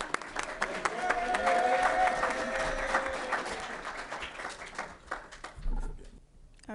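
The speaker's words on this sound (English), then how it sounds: "Let's give him a round of applause" Audience at a formal scholarship ball applauding a presenter as he takes the stage, a sustained wash of clapping with voices and crowd murmur mixed in, fading toward the end.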